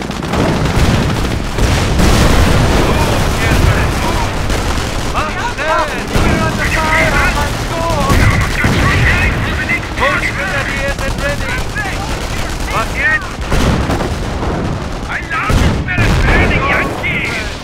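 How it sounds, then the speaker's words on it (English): Heavy gunfire and explosions fill a Company of Heroes battle with a German force: loud, continuous machine-gun bursts, rifle shots and booming blasts overlap. Shouted soldier voice lines cut through the din. "Heavy fire!"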